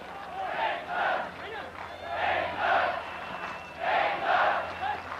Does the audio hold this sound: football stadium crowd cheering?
yes